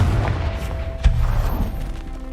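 A Confringo explosion spell goes off in a Harry Potter video game, with a deep booming thud near the middle over a low rumbling background.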